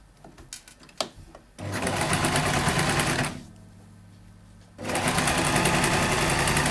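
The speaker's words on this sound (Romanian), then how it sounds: "Și voi continua să cos mai puțin partea aceasta." A sewing machine stitches the edge of a mask made from a printed T-shirt, running in two loud steady bursts with a short pause between, after a few faint clicks and handling noises at the start.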